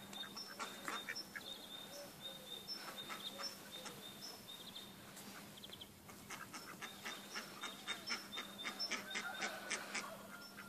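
Indian Runner ducks quacking in quick, repeated bursts, fairly faint and at a slight distance, with a low steady hum underneath.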